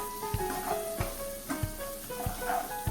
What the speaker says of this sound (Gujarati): ડુંગળી ટમેટું સિંગદાણા બહુ સારી રીતે તેલમાં સંતળાઈ ગયા છે